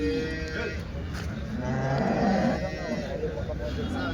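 Cattle at the Sunday cow market in Chintamani, Karnataka, give a low, fairly close moo midway through, set against continuous crowd murmur and distant voices.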